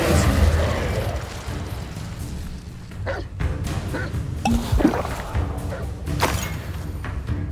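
Magic spells cast in the Hogwarts Legacy video game, including Levioso, a projectile attack and Incendio, land as a string of thumps, pops and bursts over a steady rumbling game backdrop, with a few sharp crackling hits standing out.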